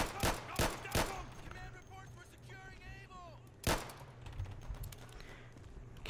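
Several sharp handgun shots ring out in the World War II shooter Day of Infamy, three quick cracks near the start and another loud one a few seconds later, over a low battlefield rumble with faint distant chatter.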